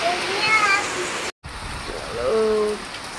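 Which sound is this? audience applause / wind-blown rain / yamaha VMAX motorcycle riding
wind-blown rain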